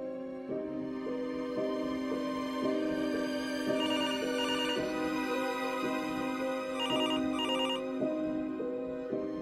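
A telephone rings in a repeating electronic warble, several rhythmic bursts of the same tone pattern with no answer, clear and steady throughout.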